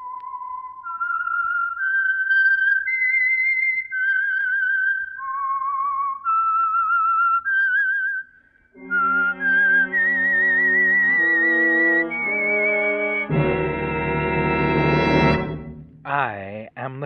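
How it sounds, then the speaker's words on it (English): A lone whistled theme melody opens The Whistler mystery radio program, a clear, wavering tune of sustained notes lasting several seconds before a full orchestral passage swells in and builds loudly. "That whistle is your signal for the Signal Oil Program"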